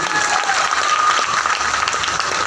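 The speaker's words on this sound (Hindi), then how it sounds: "एक बार जोरदार ताली होनी चाहिए" Loud, steady applause from an audience at a wellness gathering, a dense continuous wash of many hands clapping that holds evenly for the whole stretch with no voices on top.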